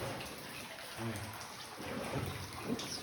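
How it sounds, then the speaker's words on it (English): Rain patters onto the water inside a cave during a boat tour in Trang An, Ninh Binh, Vietnam, a steady soft wash of drops heard close by under people talking. "It's raining."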